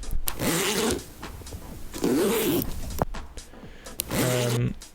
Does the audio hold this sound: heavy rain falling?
no